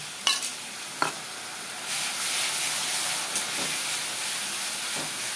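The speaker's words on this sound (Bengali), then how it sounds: "সামান্য একটু জল দেবো এর মধ্যে, যাতে মশলাটা না পুড়ে যায়।" Water poured onto spice paste frying in a pan for a Bengali kakrol (spiny gourd) curry, a bright steady sizzle and hiss rising after a few sharp clinks of a stirring spoon.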